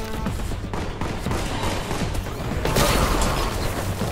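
Graviton gun firing in Warhammer 40k Boltgun, a loud crackling barrage of impacts and mechanical clatter that swells into a harsher blast near the end.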